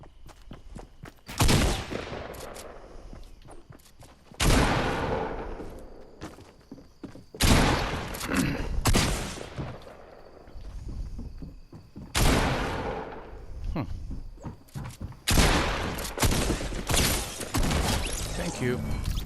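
Repeated shotgun blasts in the Fortnite video game, several loud bursts coming in clusters a few seconds apart, each followed by a rattling tail, with footsteps and voices talking between shots.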